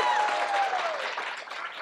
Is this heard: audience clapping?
yes